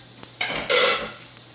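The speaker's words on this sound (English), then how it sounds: "I'm just going to go ahead and put my green beans in the boiling water." Washed green beans dropped into a pot of boiling water in a home kitchen for quick blanching, giving a short burst of hissing and bubbling that swells and then fades, near and fairly loud, with no talk.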